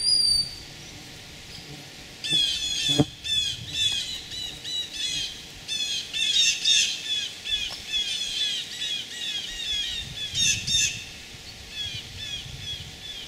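A hawk perched just overhead at a permaculture camp gives a run of rapid, repeated high squawking calls, steady and fairly loud through most of the stretch, with a few knocks and rustles underneath and no talking.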